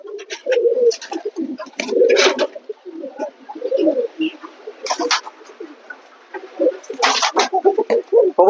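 Domestic pigeons kept loose in a room give repeated throaty coos in bursts, close and fairly loud, with some wing flutters and rustling between calls.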